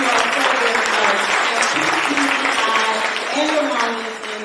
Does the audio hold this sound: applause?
yes